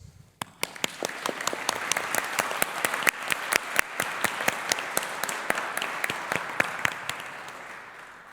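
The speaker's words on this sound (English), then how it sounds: "Let's start today's ceremony by giving you all a round of applause." Applause at a university graduation ceremony in a chapel, a crisp crowd of clapping with sharp individual claps standing out, building quickly and holding steady in a reverberant room.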